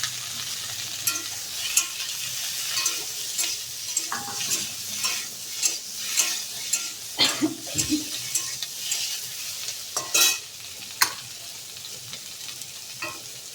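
A spoon stirs boiled potatoes into spice masala frying in a pan for egg curry, giving repeated scraping and clinking strokes over a constant sizzle, close and fairly loud.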